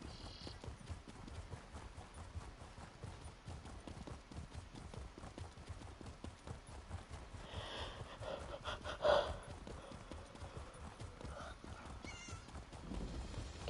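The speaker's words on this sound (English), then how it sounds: "Cat." Cat meows in the Elder Scrolls Online game world, heard faintly beneath a busy mix of game ambience, footsteps and clip-clop sounds, with a brief louder cry standing out near the middle.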